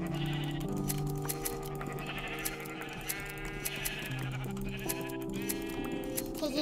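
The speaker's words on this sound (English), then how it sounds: "I'm gonna start killing some sheep" Sheep bleating in Minecraft, several overlapping wavering cries repeating loudly over game music, with no talking.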